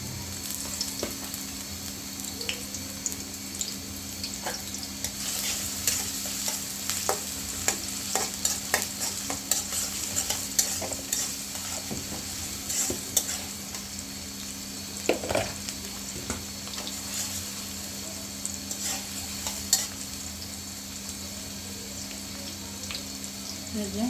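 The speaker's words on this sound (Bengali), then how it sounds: "দিয়ে দিলাম পেঁয়াজ কুচি" Chopped onions fry in a pan for a Bengali taro and shing fish curry, a continuous close sizzle with frequent scraping and stirring clicks throughout.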